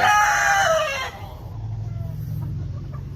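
A rooster crows once, loud and close, then stops, leaving a low hum and soft clucking from chickens nearby.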